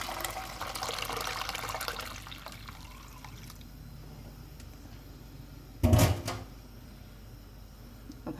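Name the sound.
pouring tamarind and plum pulp into a cooking pot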